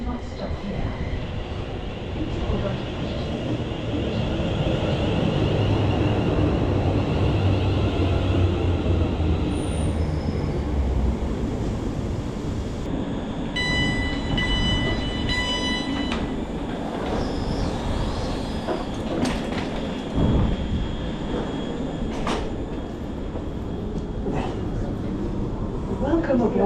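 A non-stopping London Northwestern Railway train rumbles and clatters steadily past for a long stretch at a station on the Nuneaton–Rugby line, with wheel squeals and rhythmic clicks, heard close from the platform under faint voices and announcements.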